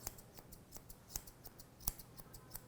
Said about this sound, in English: holding the ear away and trimming out that triangle